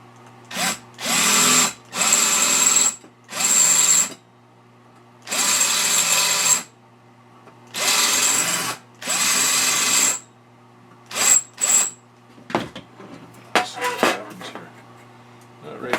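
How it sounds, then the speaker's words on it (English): A power drill whirs in repeated bursts of a second or two each, separated by short pauses, drilling the heads off screws on a Piper Super Cub wing landing light assembly, followed by clattering handling noises near the end. "then just drill the head off them like you would taking a rivet out"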